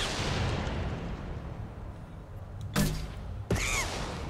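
Two sharp, loud explosion blasts in the Mass Effect 2 video game, spaced under a second apart, following a long stretch of heavy rumbling noise.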